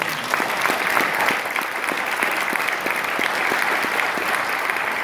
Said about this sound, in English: you can give Matt another round of applause